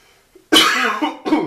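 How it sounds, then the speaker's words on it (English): A single harsh cough bursts out close up, followed by a shorter second cough a moment later. "Trying to get over a cough here."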